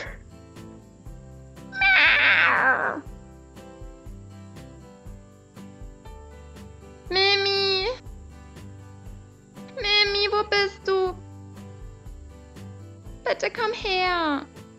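A cat meowing in four separate drawn-out cries spaced several seconds apart, close and fairly loud over a quiet background with faint music.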